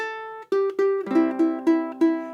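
One measure of Buffalo Gals rings out on ukulele in chord-melody style: a sustained note, then a run of evenly spaced strummed chords, close, bright and alone.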